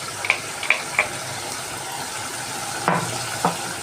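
A spoon stirs a ground paste of dry coconut, masala and cardamom into a chicken curry in a pan. A few sharp scrapes and clinks sound over a steady, close sizzle.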